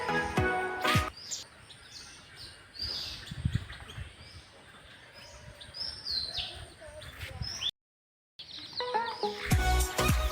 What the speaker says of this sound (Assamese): কিবা বেলেগ আৱাজ শুনা পায় নেকি চাবচোন খালি চৰাইবিলাকৰ মাত